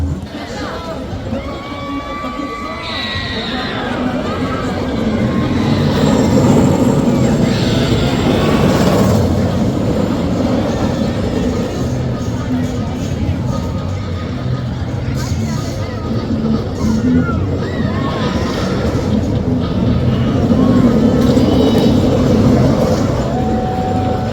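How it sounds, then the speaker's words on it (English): A night ride on Railblazer, an RMC single-rail roller coaster, with steady loud wind and track rumble running throughout, plus crowd noise and screams rising and falling around the rushing train. "we're gonna do a night ride here on Railblazer, the RMC single rail"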